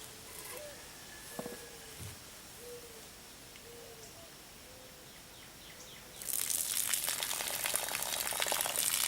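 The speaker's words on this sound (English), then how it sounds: "dump the water off" Water poured off settled clay during clay processing, starting abruptly as a loud, hissing splash and continuing steadily after a quiet stretch with faint background sounds.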